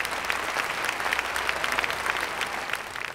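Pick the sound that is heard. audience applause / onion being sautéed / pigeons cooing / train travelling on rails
audience applause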